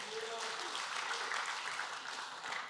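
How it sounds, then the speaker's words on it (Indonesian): A congregation at a church worship service claps in a sustained, fairly quiet wash of applause heard from a distance, with a faint voice underneath. "Tepuk tangan buat kamu"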